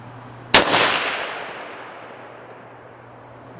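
A single loud rifle shot from a Palmetto State Armory PA-10 Gen 3 with a Ballistic Advantage barrel, a sharp crack followed by a long decaying outdoor echo, alone without talk.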